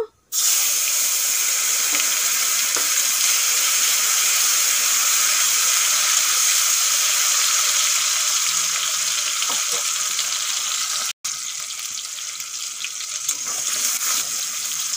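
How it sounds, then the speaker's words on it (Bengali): Tomato frying in a pan for an egg curry, a loud, steady hiss of hot oil that holds throughout with one brief cut near the end, no speech over it. "টমেটো একটু ভেজে নিয়েছি"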